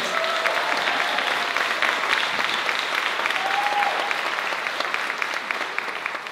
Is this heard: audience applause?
yes